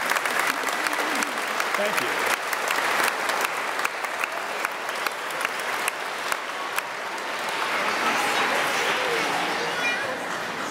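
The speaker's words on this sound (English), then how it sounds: "So let's give them a round of applause." Congregation applause at Sunday Mass, a loud, full round of many people clapping that holds steady for several seconds and swells again near the end, with a voice speaking briefly over it.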